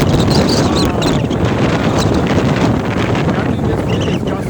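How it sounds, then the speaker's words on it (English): Strong, gusting wind roars steadily beside the water, buffeting the microphone with a dense, loud rumble throughout, while waves wash against trees along the shore. "I think this wind is gusting."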